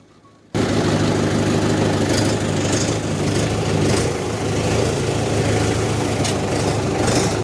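A tractor engine starts up and keeps running at a steady low idle, a loud constant rumble close by with no talk.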